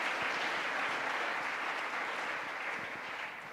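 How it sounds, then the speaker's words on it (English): Sustained audience applause fills a conference hall after a morning of presentations at the ISMIR 2018 music information retrieval conference, a dense, steady clatter of many hands that tapers slightly at the end. "Let's give one more round of applause for all of our excellent and timely presentations of the morning."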